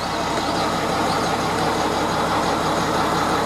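A 2003 International 4300 24-foot box truck with a DT466 diesel engine runs at a steady idle, a close, continuous, loud diesel rumble with a faint whine.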